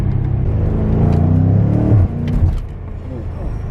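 A BMW M5 engine rumbles and revs hard under throttle, a loud low growl building then easing after a shift-like drop, with a voice talking over it.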